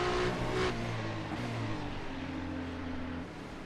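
GT3 race cars run flat out in a pack at Winton, heard as a steady, fairly distant engine drone with strong tonal harmonics that fades slightly toward the end.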